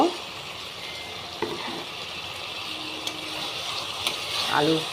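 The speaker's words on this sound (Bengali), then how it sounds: "এবার আমি এর মধ্যে আলুটাকে দিয়ে দেব।" Spice paste for crab curry sizzles steadily in oil as potatoes go in, with a few clinks of a utensil against the pan and a soft frying hiss underneath.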